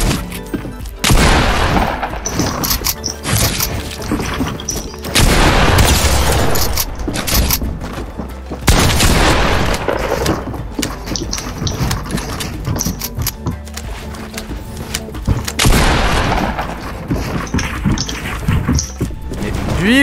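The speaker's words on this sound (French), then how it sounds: "il me tire à cette distance avec un pompe, lui" A pump shotgun fires in a video game in loud, heavy blasts spaced a few seconds apart, each followed by a crashing tail, amid busy game noise throughout.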